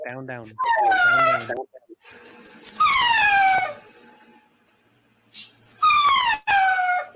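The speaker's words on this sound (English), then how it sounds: "My dog used to whine like that." A dog whines in several loud, drawn-out, falling cries close by, in bursts separated by short pauses and a longer near-silent gap.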